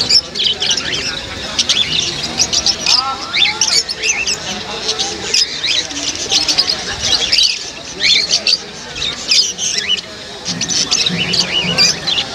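Pigeons at a bird market chirp and squawk in dense, repeated bursts throughout, close and busy, over a murmur of crowd chatter and people talking.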